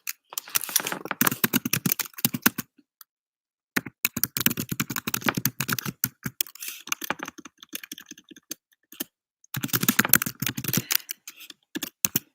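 Bursts of fast typing on a computer keyboard, close and fairly loud, broken by short pauses of silence between runs of key clicks.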